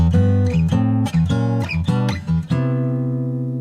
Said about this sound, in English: The whole walk-up sounds like this.